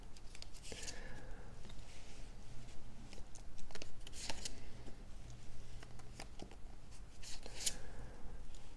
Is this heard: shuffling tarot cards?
yes